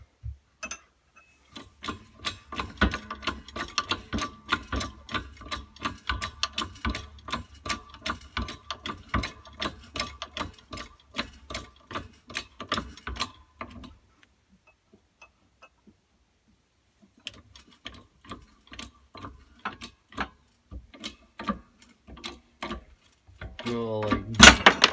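A 6-tonne hydraulic press for coin ring making squeezes a steel bolt with rapid, busy mechanical clicking and ticking. The clicking pauses briefly, then resumes and ends in a louder burst.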